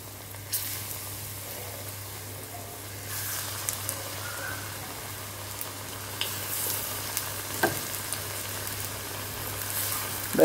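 A second batch of fish fries in a pan with a steady, close sizzle, broken by a few faint clinks and stirs.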